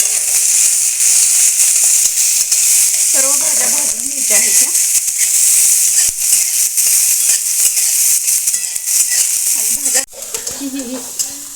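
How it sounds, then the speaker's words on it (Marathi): Capsicum roasting in a kadhai gives a steady, loud sizzle and hiss throughout, with occasional stirring scrapes and brief talk in the background. "सर्वप्रथम शिमला मिरची ती भाजून घेत आहे"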